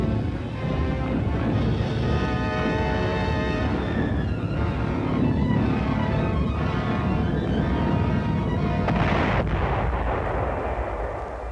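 Anti-aircraft gun batteries defending Antwerp fire at incoming V-1 flying bombs in a dense, loud, continuous barrage of booming bursts, with a steady roar held under a droning tonal layer.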